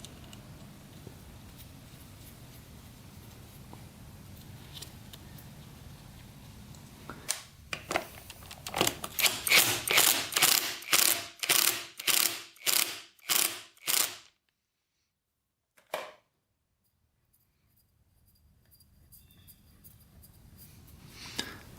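Ratchet tightening the crank nut on a 1996 Suzuki RM125 dirt bike: a close, loud burst of rapid clicking strokes in a steady rhythm lasting several seconds, then a single final click before quiet.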